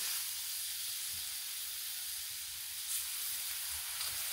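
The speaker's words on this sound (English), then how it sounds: "Got butter, we got steak, and we got some griddling." Tri-tip steak and butter sizzle steadily on a hot griddle, a continuous, close hiss of frying with no voices.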